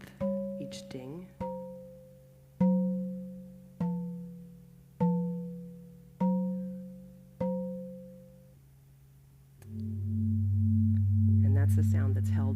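A long, bell-like digital tone plays the yearly CO2 average from climate data sonification, sustained beneath a row of evenly spaced shorter dings before swelling into a held low chord near the end; no talking.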